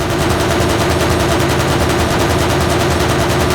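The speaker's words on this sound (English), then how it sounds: "This thing is a cannon. It can shoot down enemies from afar and provide great strafing runs." Helicopter cannon in the game Arma Reforger fires a sustained rapid burst, loud and close, with evenly spaced rounds hammering without pause from start to end.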